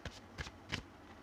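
Tarot cards shuffled by hand during a card reading, three quick riffling bursts close by, then quiet, with no talk.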